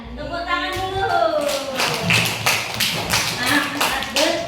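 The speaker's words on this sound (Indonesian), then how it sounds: "Tepuk tangan dulu." Students clap their hands in a classroom, a run of sharp, close claps and taps landing in an uneven rhythm while children's voices talk over them.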